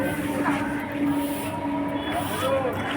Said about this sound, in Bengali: ঢুকছে ট্রেন ঢুকছে